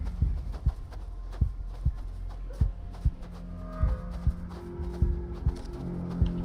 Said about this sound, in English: Oh yeah, the heartbeat is sure helping.